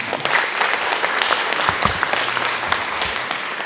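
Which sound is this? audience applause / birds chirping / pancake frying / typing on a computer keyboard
audience applause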